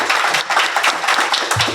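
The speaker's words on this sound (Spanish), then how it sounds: "Agradecemos a Ana Cristina otra vez con un fuerte aplauso." An audience at a geography conference applauds a guest speaker with brisk, close, dense clapping that continues steadily through the short stretch.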